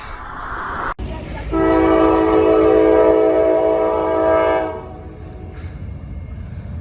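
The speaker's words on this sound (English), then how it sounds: "we find a train. I can dig it. Hopefully it's a long one." A long freight train on a mountaintop crossing sounds a loud, sustained multi-tone horn blast for about three seconds, with a sharp click just before it and rumbling rail noise beneath, then the horn cuts off and the rumble continues.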